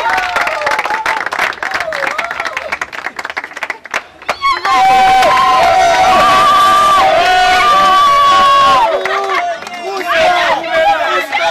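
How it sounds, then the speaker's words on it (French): Crowd applause and cheering at a dance show's award ceremony, marking ten years of a dance agency; clapping and crowd noise, with music and sung or shouted tones joining loudly partway through. "Nous invitons Mampia Kipoulou sous vos applaudissements."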